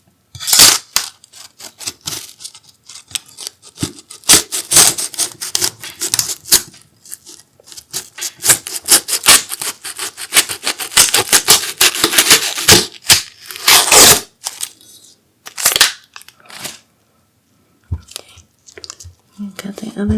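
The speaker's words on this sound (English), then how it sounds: "So now we're gonna cut the ends of each onion off." A knife slices the ends off whole onions, making crisp, crunchy cuts in close, uneven bursts with short pauses, while a person talks in between.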